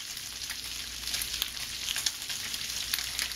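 Bacon sizzles in a pan over medium-high heat beside Taiwanese-style cabbage, a steady close crackle and hiss with small pops scattered throughout, no voices.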